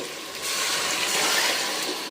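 Water is poured in a steady rushing stream into a pot of basmati rice for mutton pulao, loud and close for about two seconds before it abruptly stops.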